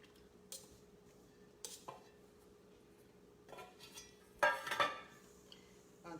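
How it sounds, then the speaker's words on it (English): Buttermilk and egg being stirred into seafood hushpuppy batter in a bowl: a quiet room with sparse, faint scrapes and clinks of a utensil against the bowl, then a brief louder cluster of clattering taps near the end. "I'm going to slowly add this and stir"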